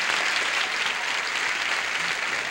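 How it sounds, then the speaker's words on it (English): Studio audience on a television game show applauding to welcome a new contestant, a continuous wash of clapping at even strength for the whole moment. "Applause, applause, applause."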